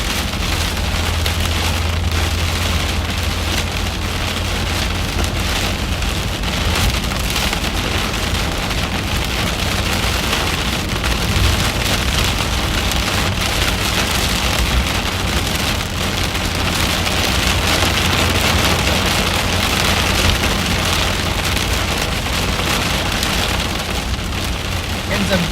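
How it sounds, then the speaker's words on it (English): Tiny pea-sized hail and heavy rain pelt a vehicle during a Midwest supercell storm chase, a dense, continuous patter of small impacts steady throughout, with a low rumble beneath and faint voices at times. "Some tiny hail here. Maybe some peas."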